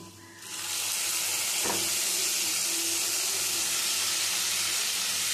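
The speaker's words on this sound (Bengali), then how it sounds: "10 মিনিট ধরে মেখে রাখা শাকটা এবারে নিয়ে ভেজে নেওয়া পেঁয়াজের মধ্যে দিয়ে দিচ্ছি" Soaked Bengali greens dropped onto fried onions in a hot pan, a sudden burst of loud sustained sizzling and hissing that stays strong and steady after the initial splash.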